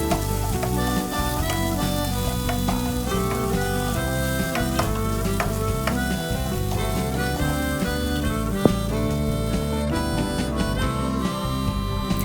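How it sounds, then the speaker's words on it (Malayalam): Green chili and vegetables fry in a pan for an oats dish, with a dense, loud, continuous sizzle and frequent clinks and scrapes as they are stirred close by; no speech. "എന്നിട്ട് നന്നായിട്ട് ഇളക്കി ഒരു 1/2 വെന്ത് വരണ വരെ വെയിറ്റ് ചെയ്യാം കേട്ടോ."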